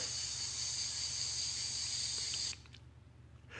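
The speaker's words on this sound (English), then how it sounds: "I also am turning off that little cicada sound thing too." A cicada sound effect buzzing as a steady high-pitched drone over a low pulsing hum, holding loud for about two and a half seconds before cutting off abruptly to near silence.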